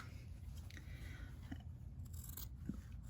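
Scissors snip through quilt fabric along a marked line for a binding, making faint, close crunching cuts over a low steady hum.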